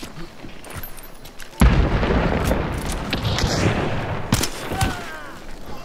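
In a Hunt video game, scattered gunshots lead into a loud explosion as a barrel is shot, followed by a sustained rumbling roar with further cracks of gunfire at moderate distance.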